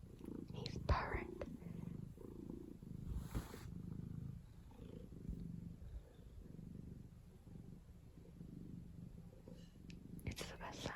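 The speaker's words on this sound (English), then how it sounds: "he's purring and he's literally circling me" A house cat purrs softly and continuously at close range, a faint low rumble with quiet whispered talk over it in a calm indoor room.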